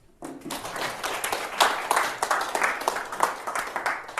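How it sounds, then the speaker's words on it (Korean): An audience applauds at a lecture forum, a moderate burst of clapping that starts abruptly and continues steadily for a few seconds. "박수 한번 치고"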